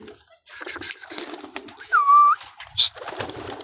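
Domestic pigeons at an Iraqi rooftop loft on a hot day, with a drawn-out tonal coo-like call near the middle and a short chirp after it, over faint background rustling and shuffling.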